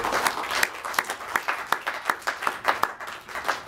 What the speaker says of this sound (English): I want to give a round of applause to you